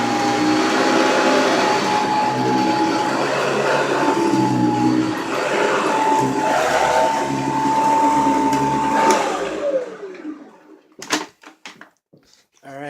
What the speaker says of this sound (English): there is my Hoover convertible